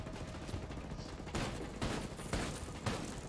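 Gunfire from Ghost Recon Breakpoint during a raid: dense sustained automatic shooting with several louder bursts standing out, close and continuous across the whole stretch.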